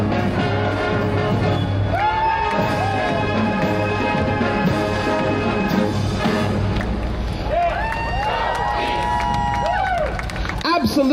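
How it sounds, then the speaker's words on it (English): Outdoor parade crowd cheering and clapping for the Appleton East High School Band of Wisconsin at a Vietnam Veterans Day memorial parade, a loud, dense roar with whistling-like tones, and voices talking throughout. "Please, a round of applause for Appleton East High School Band of Wisconsin."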